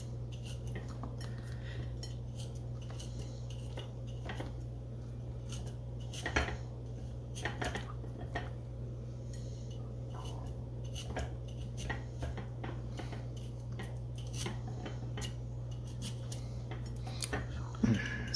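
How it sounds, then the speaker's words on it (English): A fork pricks raw potatoes in a quiet kitchen, giving scattered light taps and clinks over a steady low hum. "So I'll continue to prick these"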